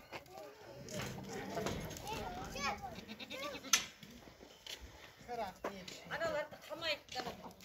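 Young goat kids of dairy and Kazakh breeds bleat repeatedly in a backyard farm pen, with wavering cries overlapping one another over a busy background of other animal and voice-like sounds.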